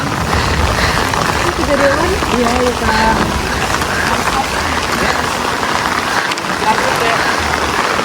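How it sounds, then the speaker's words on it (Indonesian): Heavy rain pours steadily on a mountain hiking trail up Merbabu via Thekelan, a dense, loud, continuous wash of drops, with voices talking faintly underneath early on. "dengan kondisi benar-benar hujan deras banget. Makin deras"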